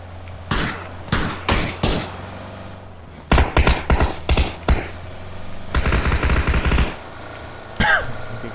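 Gunfire in the PC game PUBG: loud, close shots in separate bursts, first single cracks, then a rapid volley, then a sustained stretch of automatic fire before a last lone shot.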